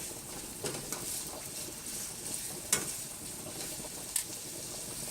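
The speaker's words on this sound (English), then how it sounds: "while my pasta and my pancetta are cooking" Pancetta frying alongside boiling pasta for spaghetti carbonara, a steady soft sizzle and bubbling with a few faint clinks and stirring taps, heard close and alone.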